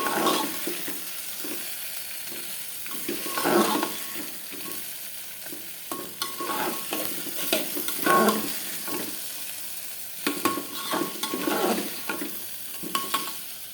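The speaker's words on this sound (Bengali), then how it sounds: "ডালটা দেখো, ডালটা আমার মোটামুটি ভাজা ভাজা হয়ে গেছে" Raw lentils dry-frying in a pan for khichuri crackle softly while a spoon stirs them, with irregular scraping bursts and quiet sizzling.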